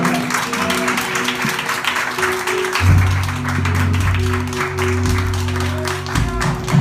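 Steady crowd applause fills a church service, a broad sustained clapping that holds for several seconds with a low organ-like hum underneath.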